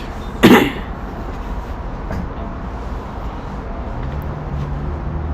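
A single sharp cough near the start, followed by steady low rumbling background noise, like a moving vehicle interior.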